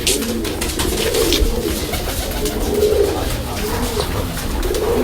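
Kamagar pigeons coo in repeated soft, low rolling calls at close range, with faint background noise between the phrases.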